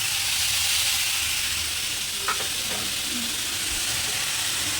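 Curry leaves dropped into hot oil while making aloo gongura bonda give a steady, even sizzle and fry hiss that runs the whole time, with a faint clink or stir in the middle and no talking.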